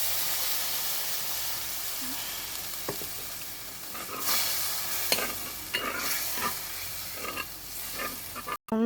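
Water goes into spices frying in a pan for fish curry, raising a continuous close sizzle and hiss with scattered scraping and stirring knocks.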